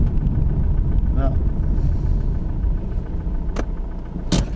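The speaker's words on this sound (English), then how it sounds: "turning the engine off." A Ford Mondeo Mk3 engine idles steadily at close range, a constant low rumble that fills the clip, with a few brief higher clicks and knocks near the end.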